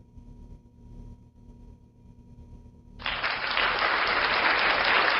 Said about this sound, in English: little bit of applause for that one